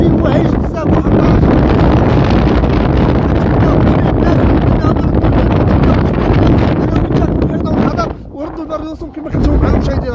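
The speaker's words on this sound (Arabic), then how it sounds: "كاينه رياح قويه، بحر هائج، كثير هيجان" Strong wind blows over a rough sea at a fishing harbour on the Bouznika coast, with loud buffeting gusts on the microphone and a roaring wash of water. Someone speaks throughout, and the wind eases briefly near the end.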